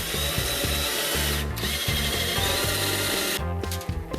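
Power drill boring into the tailgate of a Honda Accord being fabricated into an El Camino style pickup, with loud, close, repeated whirring bursts separated by brief stops.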